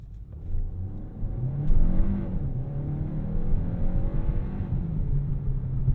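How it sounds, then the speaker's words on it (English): A Kia K4 GT-Line turbo hatchback launches uphill, its engine rising in a steady revving drone heard from inside the cabin, moderately loud with no voices. "Let's do a little bit of an uphill launch."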